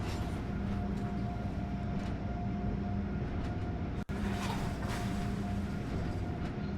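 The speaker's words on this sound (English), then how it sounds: "this sort of sounds like a freight train going through a yard with the clunk, clunk, clunk" A freight train rumbles through a yard in Train Sim World, a low steady rolling drone with a faint tonal hum and one brief dropout partway through, no talking.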